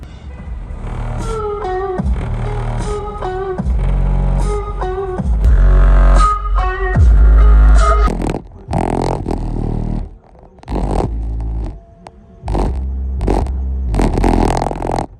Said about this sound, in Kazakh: Қазір енді біз осы буфердің дауысын көретін боламыз.